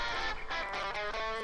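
A dry electric guitar stem from a soul-pop song, recorded at Telefunken Studios and treated with EQ, saturation and compression, plays sustained chords with no reverb tail, steady and close.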